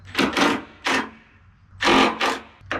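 Makita power tool working corroded bolts on the rig of a Hallberg Rassy 54 sailboat boom, giving several loud, close bursts of whirring and rattling with short pauses between them.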